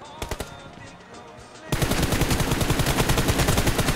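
Automatic gunfire in the BGMI mobile battle royale game: a few isolated shots, then a loud, sustained burst of rapid-fire rounds.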